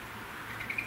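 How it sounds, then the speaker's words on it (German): A Eurasian blackbird perched outdoors on a winter morning gives short, bright calls over a soft, steady background hum, the notes clustering near the end of the brief moment. "Und da sitzt eine Amsel."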